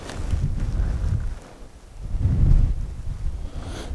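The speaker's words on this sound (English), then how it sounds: "It's a little windy" Gusty wind buffets an Olympus FE-100 digital camera's microphone outdoors, rumbling in low surges that dip briefly and then swell again.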